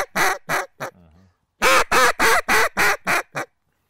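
A mallard duck call blown in short, bright quacks: a few quick notes, a pause with a low rattle, then a steady run of seven loud raspy quacks, each ending in a slight squeal.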